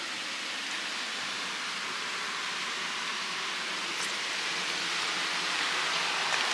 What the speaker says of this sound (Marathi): हे बघा मस्त पाऊस पडतोय.